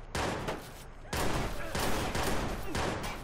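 Dense bursts of gunfire from the video game Watch Dogs fill the space in rapid, overlapping volleys, loud and continuous with brief gaps.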